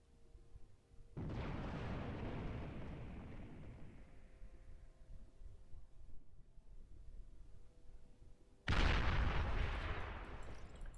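An artillery shot and explosion in the strategy game Beyond All Reason: a sudden deep boom rolls into a long rumbling decay, then a second heavy blast hits near the end, fairly close and loud.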